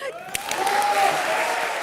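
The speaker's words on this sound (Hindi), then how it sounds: "जोरदार तालियां हो जाए" A comedy show studio audience bursts into applause. Loud, dense clapping from a crowd rises quickly and holds for about two seconds, with a short high whistle-like tone above it.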